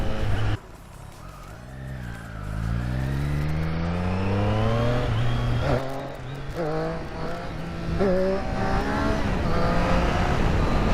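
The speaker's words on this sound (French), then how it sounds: "Il est tellement souple le moteur, c'est agréable à rouler" A Triumph Street Triple RS motorcycle engine accelerating hard, its note rising steadily in pitch, dropping briefly at each gear change and climbing again through several gears.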